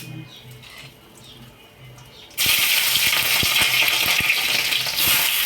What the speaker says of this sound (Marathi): इकडे हे उकळतच आहे, म्हणजे लवकर भाजी होते.